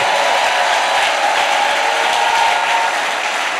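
Church congregation at an evangelical seminary applauding steadily to acclaim the Lord, a dense sustained wash of clapping from a large crowd, loud and continuous throughout with no pause.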